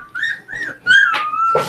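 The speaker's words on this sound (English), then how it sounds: "I have 10 puppies over there, so they are growing up and getting bigger and causing a ruckus" Several puppies from a litter of ten whimper and whine in a run of high, wavering cries with brief pauses between them, fairly close and loud, with no talking.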